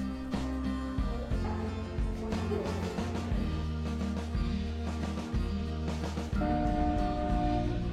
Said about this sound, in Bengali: সঠিক সময়েই ট্রেন ছাড়ল ডায়মন্ড হারবারের উদ্দেশ্যে